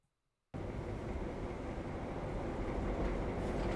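A train in an Unreal Engine rail simulation runs along its track, a steady, dense rumble that starts abruptly after a brief silence and holds at an even level with no speech.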